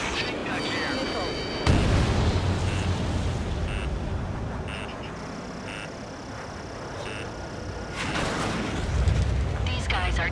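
Missile launches and explosions from aerial combat in the video game Ace Combat 7: Skies Unknown. Loud, continuous roaring blasts and booms fill the mix, with sharp impacts near the start and end and radio-style voices talking over them.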